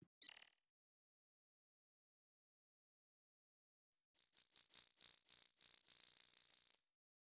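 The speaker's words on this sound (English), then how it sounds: "I think it might be Blackbird" A blackbird sings in the Quest for Glory game, starting with one short high chirp, then after a silence a quick run of repeated bright chirps, all faint with no talking.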